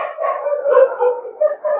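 Dogs howl and yelp in a wavering, continuous chorus as a sound effect, with mid-pitched cries rising and falling over about two seconds and no talking.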